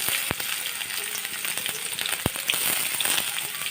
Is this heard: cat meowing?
no